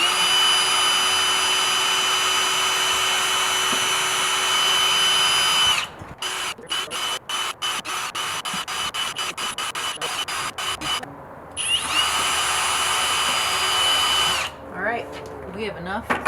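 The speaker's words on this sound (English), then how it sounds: "we have an electric battery operated drill, and I'm going to drill holes at either end of all of the strips" A battery-operated electric drill bores holes through wooden strips with long high whines, short bursts of rapid stop-start revving between them, then another sustained run, close and loud.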